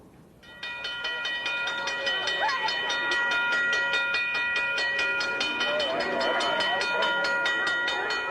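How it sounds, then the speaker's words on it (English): Union Pacific Challenger steam locomotive Engine 3985 running on a 1990 River City Roundup excursion through Nebraska cornfields, a loud steady rolling rumble with a sustained whistle tone that swells in after a quieter start and holds throughout. "take a ride on a real train through the cornfields of Nebraska."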